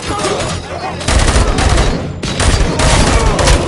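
Covering gunfire in a RoboCop video game on PS5 comes as sustained bursts of rapid, loud automatic shots. Two dense volleys are separated by a short lull, with some voices mixed in.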